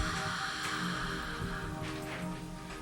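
A long, soft breath pushed out through the mouth during yoga breathing, a quiet, airy rush of breath heard close and alone for a few seconds before it tapers off.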